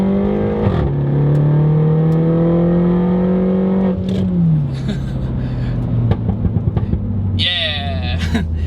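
A Mini Cooper S engine revving and pulling hard, its steady droning pitch climbing and then dropping through gear changes, loud and close from inside the cabin with rear seats folded, with some clicks and a brief whine near the end.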